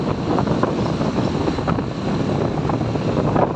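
A vehicle engine running smoothly at steady speed, around 60, on the Binmaley to Urdaneta by-pass road in Pangasinan, a continuous close drone mixed with road and wind noise.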